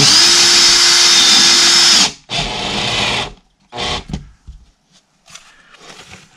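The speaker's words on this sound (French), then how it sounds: "Donc tu mets des vis tous les 20 cm." A power drill drives screws into plasterboard during drywall installation: a loud, steady whir for about two seconds, then a shorter burst, followed by a few brief quieter spurts and clicks.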